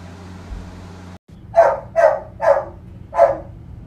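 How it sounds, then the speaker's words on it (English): Toby the dog barks from inside his crate downstairs, four separate sharp barks spaced about half a second apart after a brief hum cuts off, with no talking. "Toby is in his crate downstairs. I want you to hear what happens if you don't train your dog right."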